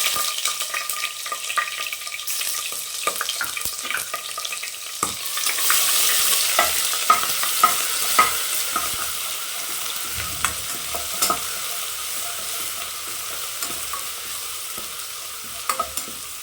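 Mustard seeds, urad dal, curry leaves, green chillies and ginger garlic frying in oil for a mutton gravy, giving a loud continuous sizzle with crackles and occasional stirring scrapes, close and without talk.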